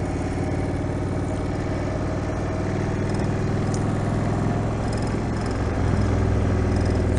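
An Indian Springfield motorcycle engine runs steadily while being ridden, a loud, continuous low rumble with a deep throb and slight rises in revs, heard close and alone without talk.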